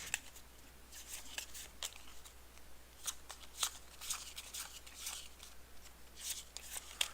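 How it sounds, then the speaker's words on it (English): A small stack of Tekeli weakness cards for the Arkham Horror card game is shuffled by hand, making quiet, rapid, crisp riffles and flicks in short bursts that repeat across the stretch. "Shuffle each Tekeli weakness card together to form the Tekeli deck"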